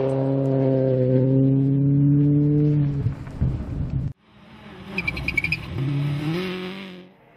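A Millington-powered Proton Satria Neo S2000 rally car on a forest rally stage revs hard and loud with a sustained engine note, drops off, then accelerates away again in a second rising burst.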